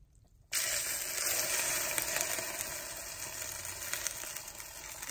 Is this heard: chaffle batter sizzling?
yes